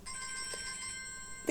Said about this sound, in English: I'm sorry about the phone ringing.